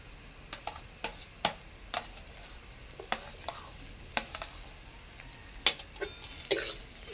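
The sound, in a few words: garlic frying in a pan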